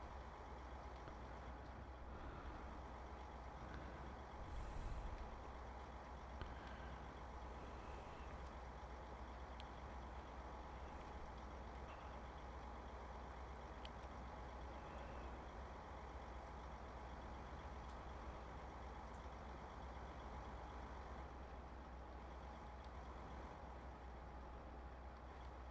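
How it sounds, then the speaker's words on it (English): A truck sits idling near a Texas barley field during harvest, a steady low engine drone running throughout with only faint variation and no talk. "that truck's sitting there running"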